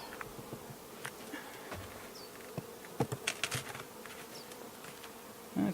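Honeybees buzzing around an open hive during an early spring inspection, a soft continuous hum with scattered clicks and knocks of handling nearby.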